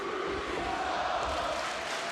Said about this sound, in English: Listen to this crowd. They love Ruby.